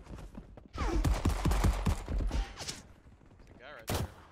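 Gunfire in a multiplayer war video game, a cluster of sharp shots that mixes with other game noise and fades. Players talk faintly underneath.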